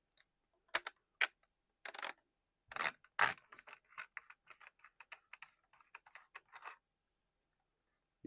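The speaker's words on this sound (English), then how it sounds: "let's remove the magazine cap" Benelli M4 shotgun with the bolt locked back has its magazine cap unscrewed and removed: a run of close, crisp metallic clicks and ratcheting ticks, irregular and quick, fading into lighter taps, with no talking.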